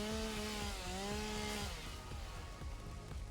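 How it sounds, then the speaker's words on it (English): A chainsaw in the game Satisfactory rips through foliage, its strong buzzing engine tone loud and steady before dropping into choppy cutting noise, with no talking over it. "I can chainsaw this stuff down."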